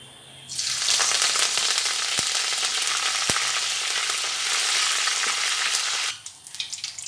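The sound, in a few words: curry leaves frying in oil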